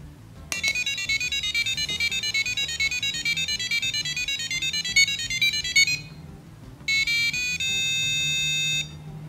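A piezo buzzer plays the Tears of the Kingdom chest-opening tune as a rapid run of single beeping notes for about five seconds, pauses, then finishes with a few quick notes and a long held tone, loud and close.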